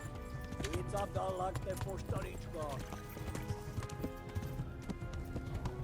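Steady hoofbeats of a horse galloping in the video game Kingdom Come: Deliverance, continuous under a busy background with a voice talking over it.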